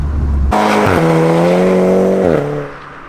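A Volkswagen Scirocco R tuned to Stage 2+ at about 350 hp revs hard under acceleration outdoors at a harbour, the loud engine note climbing steadily in pitch before easing off, with no voices over it.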